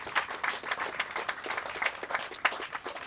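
Audience applause at a community house groundbreaking ceremony, a steady wash of many hands clapping with no talk over it.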